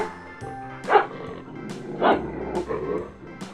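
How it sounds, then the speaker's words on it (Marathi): A dog barks in an animal-names learning segment, with two or three short, fairly loud woofs and small yips spaced about a second apart over a soft musical background; no talking. "हा कुत्रा आहे."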